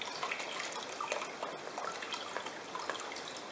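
Water swirling and sloshing in a gold pan as wash waste is rinsed to clear the light material, a close, continuous trickle with small splashes and drips and no talking.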